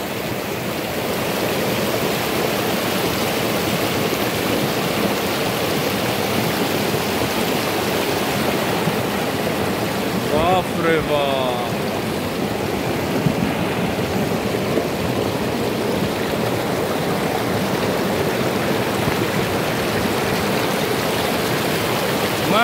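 The Seuti river near Dharan-4, with no bridge, rushes in a steady, loud broadband wash of flowing water that runs unbroken throughout, with a brief faint voice partway through.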